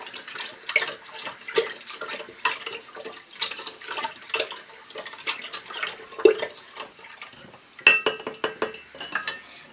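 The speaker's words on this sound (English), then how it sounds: "I'm just going to stir it so it can melt." Spoon stirring sugar into water in a jar or pot to dissolve it while making a ginger bug, giving repeated light clinks and scraping swirls at a steady, close rhythm with no talking.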